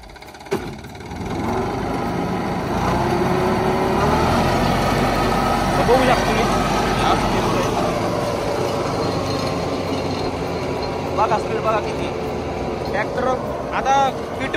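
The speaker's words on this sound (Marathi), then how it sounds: "बघू शकता तुम्ही आता ट्रॅक्टर चालू केला आहे, पाहुणे न्यूट्रलमध्ये फिरू आधी" A Mahindra Jivo 365 tractor engine runs in neutral on the spot, with a steady, continuous low rumble close by and some faint clatter over it.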